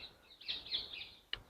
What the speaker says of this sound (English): They sound to me like they are parakeets,